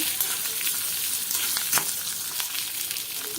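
Shallots, ginger and garlic sauté in hot oil for mutton curry, giving a steady close sizzle with occasional stirring scrapes throughout.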